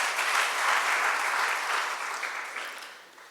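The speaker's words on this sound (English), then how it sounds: "Kindly give them a round of applause" A crowd applauds a school debate team at a competition, with a dense burst of clapping that stays strong and then slowly thins toward the end.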